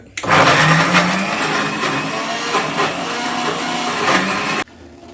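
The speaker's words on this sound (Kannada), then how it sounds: "ಈಗ ರುಬ್ಕೋತಿದ್ದಾರೆ" A mixer grinder whirs loudly as it grinds masala for mutton keema, a steady close motor drone with slight pitch wobbles that runs for nearly five seconds before cutting off sharply.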